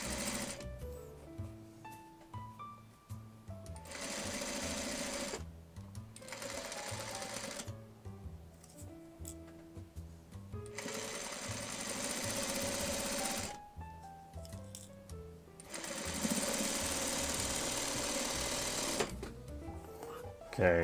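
A sewing machine stitches quilt blocks together in bursts, its rapid mechanical whirring starting and stopping several times with quiet gaps between runs, close and clear.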